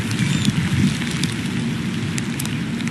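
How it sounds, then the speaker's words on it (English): Wind-driven rain lashes sideways at Atlantic Beach beside the Atlantic Intracoastal Waterway during a storm, a steady loud hiss of rain and gusts with low rumbling wind buffeting throughout, no voices. "And Chris, I imagine the rain's coming sideways there too."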